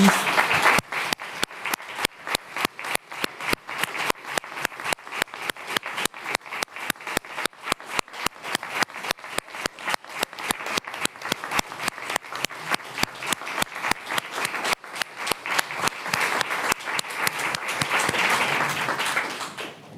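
A municipal council chamber breaks into sustained applause honouring a long-serving employee's 42 years with the commune, dense steady clapping from a room of people that holds for the full stretch and swells slightly near the end.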